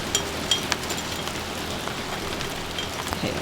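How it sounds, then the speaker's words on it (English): Hail falls hard outside a truck camper during a storm, hailstones piling white on the ground, making a dense, steady drumming patter with scattered sharper impacts, heard alone without talk. "You hear that? It's so loud. All those white on the ground is all hail."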